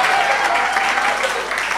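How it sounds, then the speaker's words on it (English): A large audience gives a sustained round of applause at a church campus lecture event, dense steady clapping filling the whole stretch at even loudness with no pause. "Give an incredible round of applause for our brother Raul"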